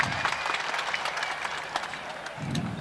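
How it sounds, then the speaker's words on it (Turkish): Crowd applause at an oil wrestling festival in Elmalı, Antalya, a broad outdoor clapping wash from a large gathering, with a low voice or rumble rising near the end. "coşkuyla bir alkış istiyorum"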